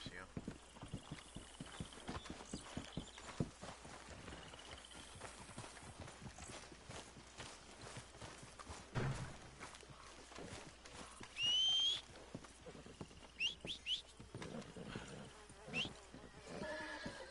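In the Red Dead Redemption 2 video game, a horse's hooves clip-clop in a steady rhythm, with a brief neigh partway through and a whistle, while someone talks over it.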